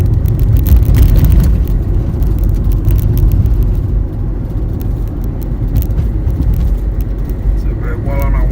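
A car driving along old country lanes, its loud, steady road rumble and engine noise filling the cabin throughout, with a person talking over it.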